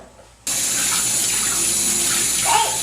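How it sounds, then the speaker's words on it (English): A kitchen tap suddenly turns on and runs steadily at full flow as a knife is rinsed under warm soapy water, a loud, close gush of water that continues without break. "you wash it under the tap, a little warm soapy water"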